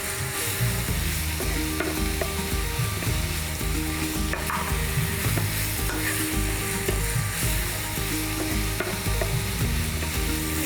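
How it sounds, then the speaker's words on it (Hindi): Marinated chicken hits a kadai of already-roasted masala for kadai chicken, setting off a loud, continuous sizzle with a spatula scraping and clattering against the pan throughout; no one speaks. "अब हम डालेंगे जो मैरिनेट किया हुआ चिकन"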